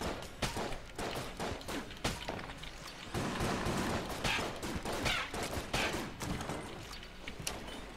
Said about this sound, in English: Hegemony rifle is doing a good job. Of killing things.